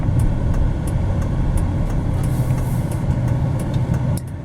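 A 2006 Dodge Ram 1500 pickup with a Hemi V8 rolls steadily through a right turn, its low engine drone and road rumble constant and close from inside the cab, easing slightly at the very end.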